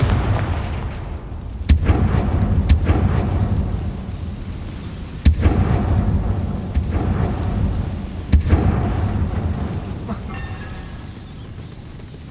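Confringo fire spell blasts in Hogwarts Legacy video game: several sharp booming impacts at irregular intervals over a continuous rumbling, crackling wash, loud and close, with no talking.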